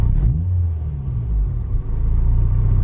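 A Honda Civic Si (2000 EM1) with a swapped-in Type R B18C engine rumbles at a steady idle, swelling briefly as if revving slightly, then settling back to a low, even idle.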